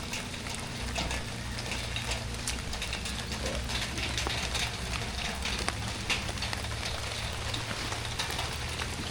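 Rain pours steadily onto an overgrown plot in Nong Khai, Thailand, with runoff spilling from a pipe into a gully, a continuous broadband hiss close by and doves cooing in the background.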